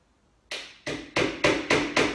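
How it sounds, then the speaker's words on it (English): Nail driven with a hammer to fix coving to a ceiling: five sharp, close knocks after a brief quiet start, coming in a quickening, even rhythm with no talk. "if I put another nail in the ceiling, that's held, it's not going anywhere now."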